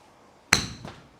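A golf club strikes a Callaway Chrome Soft X ball once, giving a sharp, crisp, clicky impact with a short ringing tail, close and fairly loud against a quiet background.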